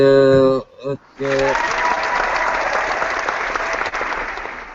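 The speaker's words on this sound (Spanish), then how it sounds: "Amerita un aplauso, compi." Applause breaking out from a group during a live debate gathering, dense clapping that starts abruptly after a short tonal musical sting and holds steady to the end.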